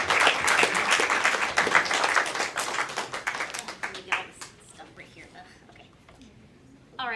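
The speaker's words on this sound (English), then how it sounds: "Let's give one more applause to Alex." An audience at an investment social event claps, a dense burst of applause that gradually thins to scattered claps and fades out, with a few quiet voices after it.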